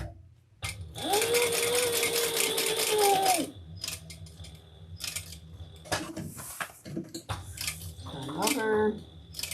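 A sewing machine back-stitches a few stitches on a crossbody bag, a loud steady whirring run of stitching followed by shorter bursts and clicks, with a voice speaking alongside.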